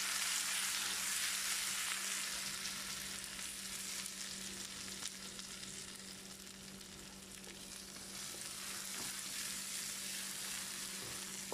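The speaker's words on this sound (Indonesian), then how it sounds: "Tumis sehingga naik bau." Pounded onions stir-fry in hot oil in a pan, giving a steady loud sizzle and crackle that continues throughout with no talking.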